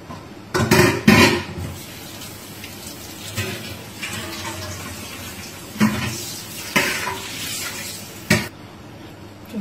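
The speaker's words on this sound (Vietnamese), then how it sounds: "Các bạn đun một cái nồi nước lên như vậy nhé, sau đó các bạn cho cái nước vào" Water is poured into a cooking pot on the stove in a home kitchen, heard as several splashing bursts with metallic clinks between them, close and moderately loud.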